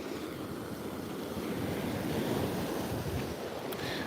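Ocean surf breaking on Sandy Hook Beach, New Jersey: a steady, close rushing wash of waves with gusting wind across the microphone and no talking.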